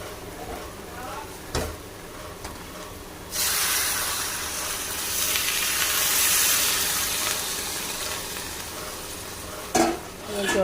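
Hot water poured into a pan of pea ghugni curry, bringing a sudden loud rushing hiss and bubbling sizzle that lingers for several seconds, with a few knocks of stirring around it.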